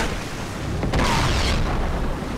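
A grenade launcher blast in Uncharted 3: Drake's Deception lands as a deep rumbling boom rising out of constant game noise, one heavy burst swelling and fading over about half a second.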